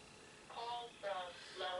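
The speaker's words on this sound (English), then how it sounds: "Sorry, that phone's throwing us off." A phone rings during a conversation, three tonal ringing bursts repeating at a steady pace, moderately loud against a quiet room background.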